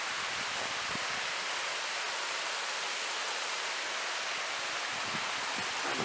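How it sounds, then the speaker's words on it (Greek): Steady broadband rush of a river with small waterfalls beside a footpath over little bridges in old Kavala, continuous and fairly close, with no voices. "δίπλα από το ποτάμι, με γέφυρες και καταράκτες"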